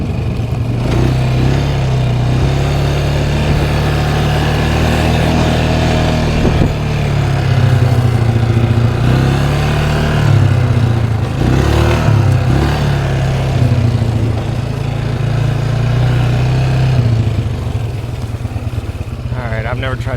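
Four-wheel-drive vehicle, long abandoned but revived, running while driving, a loud steady low engine drone with slight rises and dips throughout, close up with road and cabin noise.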